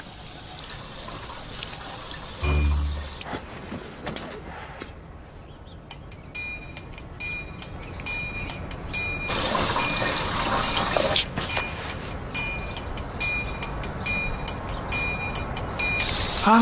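Water running and trickling from a drinking fountain, a steady close-up stream that lasts throughout, with brief pauses and slight changes in flow.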